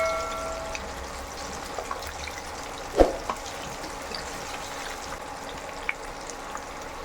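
Chicken 65 pieces frying in hot oil, a soft steady sizzle with a single louder splash and crackle partway through as the pieces are turned, otherwise quiet and even.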